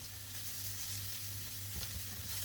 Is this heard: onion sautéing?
yes